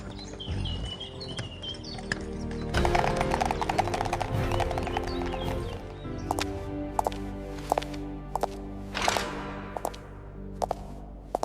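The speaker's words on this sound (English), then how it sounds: "She climbed into the carriage, and they rode to the royal palace." Hooves of a horse-drawn carriage clip-clop in a steady rhythm on the way to a royal palace, with harness jingles and birds chirping around it, moderately close over soft background music.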